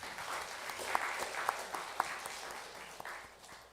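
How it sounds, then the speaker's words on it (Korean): A church congregation at a Wednesday service claps in welcome for visiting guests, a soft, steady patter of many hands with a few sharper individual claps standing out, heard from across the room. "서울의 세향교회의 홍종철 목사님 그리고 두 분 장로님이신데 먼저 우리 박수로 환영하겠습니다."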